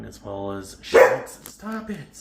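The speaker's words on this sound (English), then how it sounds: "I was just trying to get the dog to shut up." A pet dog gives one sharp, loud bark close by, between bits of a person's speech scolding it.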